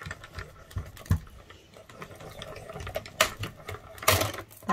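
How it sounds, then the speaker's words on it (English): A die cutting machine running a card and plate through with soft, uneven clicking and ratcheting, quiet and close with a few louder clacks. "I'm going to put my plate back on and run that through the machine, and it will cut out a smaller rectangle"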